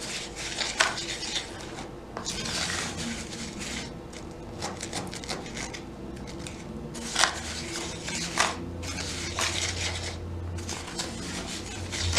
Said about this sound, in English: So you want to get all the clumps out, mix it up really good.